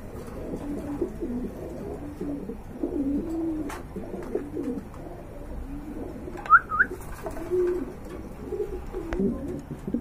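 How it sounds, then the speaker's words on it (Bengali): Soft, low pigeon coos repeat steadily close by, with a brief higher chirp partway through and a faint background hum. "আর এক জোড়া কবুতর দেখতে পাচ্ছেন, এটা কিন্তু শৌকিং কবুতর"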